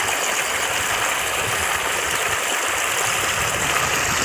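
Water rushes steadily through a pipe rigged up for catching fish, a continuous close hiss and gush with no pauses and no talk.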